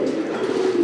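Bombay pigeons coo steadily in a low, continuous purr, close and fairly loud, with no talk over it.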